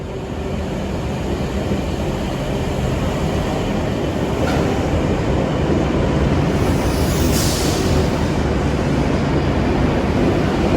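A Sydney Trains K set electric train on a Liverpool via Bankstown service runs steadily, its loud continuous rumble and rail roar holding evenly throughout with no talk.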